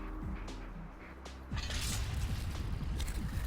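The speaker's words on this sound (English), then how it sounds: "Yep, there's a secret door." A secret door in the Alpha Protocol video game grinds open with mechanical creaks, then a denser rumbling, clattering slide of gears that keeps going, fairly quiet and with no talk over it.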